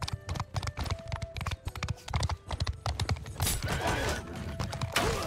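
Cavalry horses' hooves clatter in rapid, overlapping clip-clops during a video game battle, loud and busy, with a brief whinny and rising battle din toward the end.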